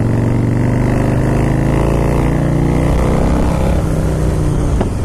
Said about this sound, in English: So that is my first ride experience on this Softail GTB